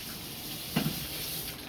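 Tap water runs steadily while instruments are rinsed, a continuous hiss with one short splash or clink in the middle.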